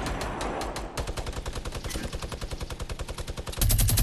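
Rapid automatic gunfire in Fortnite: a sustained rattling burst of evenly spaced shots, loud and close, then a heavier blast near the end, with no voices.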